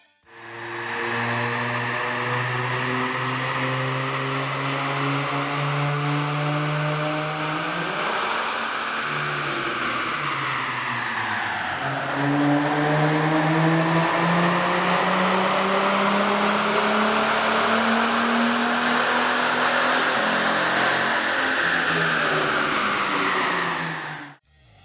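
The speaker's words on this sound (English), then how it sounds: "Here's a comparison of the vehicle's sound on the dyno with the stock OEM system versus" A 3.5L Dodge Challenger or Charger engine runs on a dyno, comparing the stock intake with an AEM air intake: two long, loud revving pulls, each rising steadily in pitch and then dropping back before climbing again.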